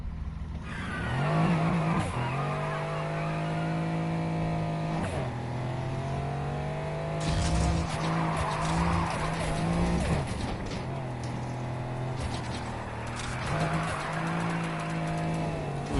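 A car on drift tires skids in a racing video game, producing a loud, drawn-out squealing tone that slides up and down over a steady engine drone and fades and returns in long continuous runs, with no talking.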